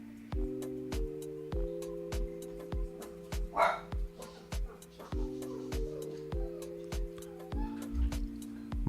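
A dog barks repeatedly as a mail carrier arrives, short sharp barks scattered over steady tonal background music with a rhythmic ticking beat.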